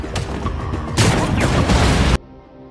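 Film gunfire and a bomb blast: a dense, loud burst of shots and a booming roar that ends abruptly, followed by a quieter low tail.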